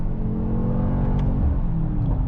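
A Mercedes-AMG GT 63 S E Performance hybrid with a nine-speed MCT gearbox rumbles close by, its engine note rising in a deep, steady rev with a slight swell near the end, and no voices.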